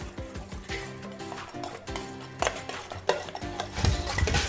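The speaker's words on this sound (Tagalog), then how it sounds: "So, i-mix lang natin ito guys" Curry powder being stirred into a chicken marinade in a bowl, with close, wet squelching and scraping strokes and occasional clinks of the utensil against the bowl.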